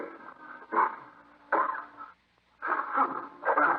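A few rough, throaty coughs in separate bursts from an old radio drama, close and fairly loud, with brief quiet gaps between them.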